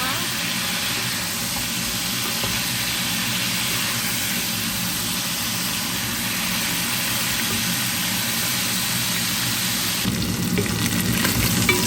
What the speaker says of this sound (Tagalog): Vamos a freír un poquito. Kailangan guys, gigisa natin ng konti.